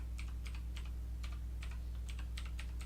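Keys on an Eagletec gaming keyboard are tapped one after another in a loose, uneven rhythm, about ten crisp clicks close up over a low steady hum, with no talking.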